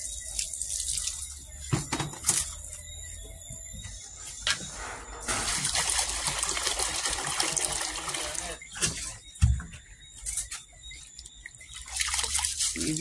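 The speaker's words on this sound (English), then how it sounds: "you need to wash your rice properly before you add it to the pot" Rice being washed in a pot with water, running and splashing water sounds continuing throughout with drips and scrubbing surges, fairly close, no talk.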